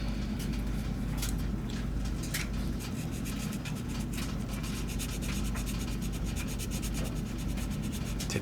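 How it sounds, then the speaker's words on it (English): A UMP 180 grit sander rubs back and forth over a plastic model car part for a 1970 Boss 429 Mustang kit, giving close, rhythmic scratchy strokes that speed into rapid repeated passes. "I'm using a UMP Ultimate Modeling Products 180 grit sander."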